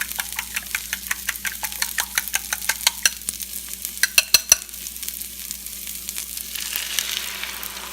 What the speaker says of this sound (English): we're going to add the eggs in there.